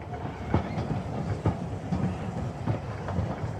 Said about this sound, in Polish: On 14 marca do miasta wjechał carski pociąg.